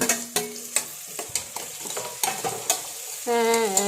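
Tomato and curry leaves frying in a pan for chicken curry, a loud close sizzle with repeated sharp scraping stirs of a spatula, ending in a louder steady sizzle.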